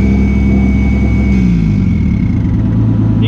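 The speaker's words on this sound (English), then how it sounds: "You can just hear that turbo still." A turbocharged Datsun engine idles steadily close by, a low continuous rumble with a faint high turbo whine holding above it, no voices.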